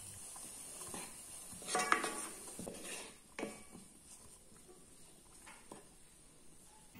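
Onion and mustard seeds stirred in a pot of vegetable oil, a soft scraping and gentle sizzle with a few louder spoon knocks near the start, then quieter stirring.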